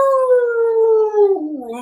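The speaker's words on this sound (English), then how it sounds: "He rattled the window with his howl and scampered off with his tail between his legs." A single long werewolf howl, loud and close, slowly sinking in pitch before wavering into a lower, strained ending.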